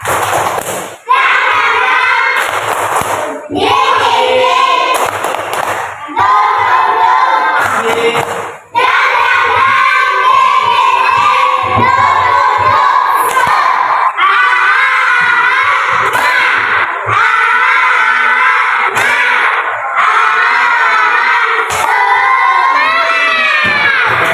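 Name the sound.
children doing the 'tepuk semangat' spirit clap chant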